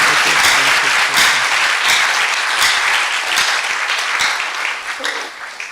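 An orientation audience applauds steadily and loudly for the dean, dense clapping filling the room and fading slightly toward the end.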